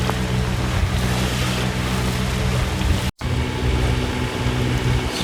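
A sailboat motors straight into the wind along a coastal passage, its engine a steady loud drone beneath continuous wave and wind noise, broken by one brief dropout.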